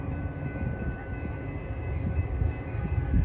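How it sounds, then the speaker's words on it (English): A BNSF train pulling into the Downers Grove Main Street station, a steady low rumble and rolling drone that builds slightly as it nears, heard without speech. "BNSF train number 1231 to is now arriving"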